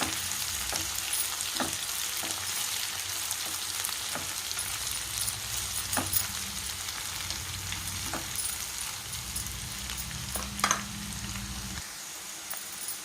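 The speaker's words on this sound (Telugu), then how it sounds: "రెండు ఎండుమిరపకాయ ముక్కలు పచ్చివాసన పోయిందాక వేయించుకోవాలి" Pieces of dried red chilli and ginger garlic paste fry in a pan for a ridge gourd masala curry. A steady sizzle runs throughout, with occasional stirring taps and a low hum that cuts off near the end.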